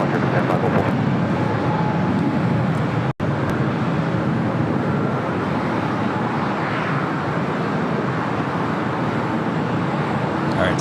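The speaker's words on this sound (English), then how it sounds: "Skylace cargo Queen now rolling down 25 right" Sky Lease Cargo jet on its takeoff roll down runway 25 right at LAX, a loud continuous engine roar that holds steady apart from one momentary dropout, with talk underneath.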